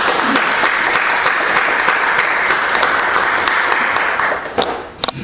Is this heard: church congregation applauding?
yes